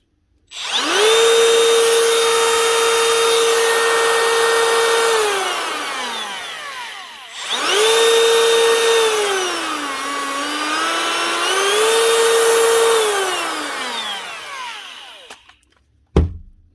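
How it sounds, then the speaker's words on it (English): A repaired Makita cordless trimmer runs loud and steady in two long bursts, whirring up, holding an even high whine and spinning down between them, with a brief click at the end and no talk. "One very awkward Makita cordless trimmer repaired."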